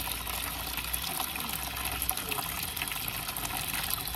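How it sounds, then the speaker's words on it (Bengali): A thin stream of water runs slowly for bathing. The flow splashes close and steady throughout with a constant hiss, and no one speaks. "এত আস্তে আস্তে জল পড়ছে"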